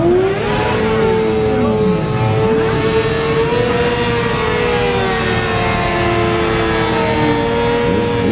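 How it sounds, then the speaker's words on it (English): Several police car engines revving hard during a squad burnout in a parking lot, a loud sustained roar with rising and falling pitch sweeps and tire squeal, continuous for the whole stretch. "They're about to do a squad burnout."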